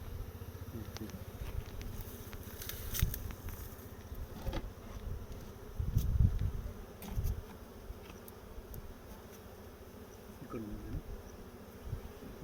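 A steady swarm of honey bees buzzes around an opened wooden hive during natural honey harvesting. The hum is continuous and faint, with occasional soft knocks and handling noises.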